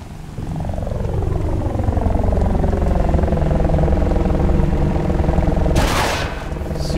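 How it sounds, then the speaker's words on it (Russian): Helicopter in the video game Battlefield: Bad Company 2, a loud close rotor drone with a Doppler-like sweep, ending in a sharp explosive burst. "похоже, вертушку послали за ним"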